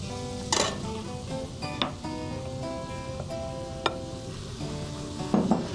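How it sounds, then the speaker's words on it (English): Tomatoes go into a pan of softening onions in olive oil, a soft steady sizzle punctuated by utensil scrapes and light clinks of stirring. "we're gonna add some tomatoes."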